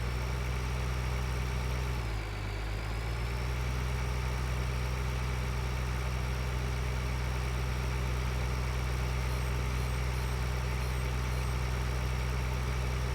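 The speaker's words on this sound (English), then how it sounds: "Alright, we're back in our tractor." A tractor engine in the video game Farming Simulator 2013 idles at a steady, loud, continuous drone, with a brief dip in pitch early on and no one talking.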